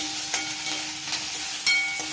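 About ten dried chillies fry in hot oil until golden brown, giving a soft, steady sizzle close by with a few faint stirring knocks.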